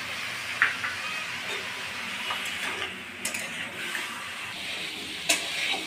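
Potato and eggplant frying in hot oil give a steady, moderate sizzle, broken by occasional clicks and scrapes of stirring in the pan.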